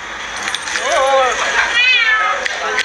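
A voice mimics a cat's meow, two drawn-out rising and falling calls close to the listener, with light background noise.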